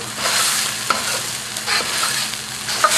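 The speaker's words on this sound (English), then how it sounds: "That's how you cook with a wok." Chili, shallot, turmeric and diced tomatoes stir-fry in a wok with a continuous close sizzle, broken by scraping strokes and a few sharp taps of the utensil against the pan.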